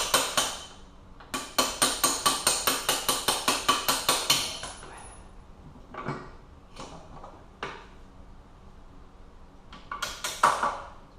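A rapid run of sharp metallic taps, about a dozen in quick rhythm, as a hammer drives a pin against a rusty bolt on a Honda 400EX, then a few slower spaced strikes with pauses between them, close by.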